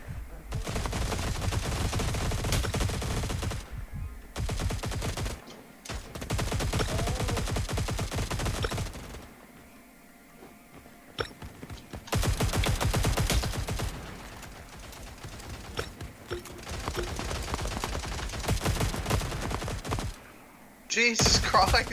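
Bursts of rapid automatic gunfire ring out in the shooter Cyber Hunter, coming in dense volleys broken by short pauses, loud and close throughout the squad fight.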